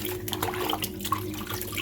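Vinegar-and-water rinse while cleaning a fridge: steady running and splashing water with small irregular sloshes, fairly close and moderately quiet.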